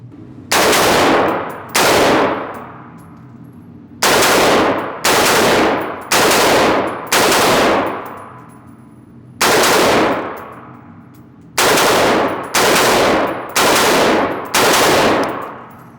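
Rifle gunfire at shooting practice while training for a rifle championship: nine loud, close, sharp shots in separate single reports and quick pairs, each trailing off in a ringing decay across an outdoor range, with no talking.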